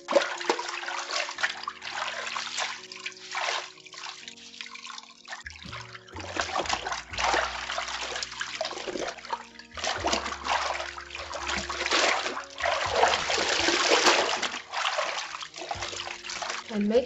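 A towel is rinsed by hand in a basin of water, with repeated splashing, sloshing and dripping that come in uneven bursts, close and fairly loud throughout.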